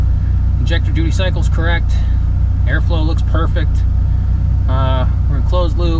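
A tuner car that sat abandoned for a year in upstate New York idles with a steady low engine hum, close and constant, while someone talks over it.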